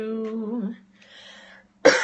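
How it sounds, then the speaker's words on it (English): A voice hums a short tune, then a single sharp cough bursts out loudly and close. "Oh, the lovely coughing."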